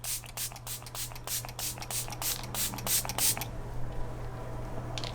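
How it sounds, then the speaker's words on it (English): Quick close pumps of a facial mist spray bottle hiss out one after another, then stop, leaving a quiet room. "Love the idea of a glowy, refreshing spray."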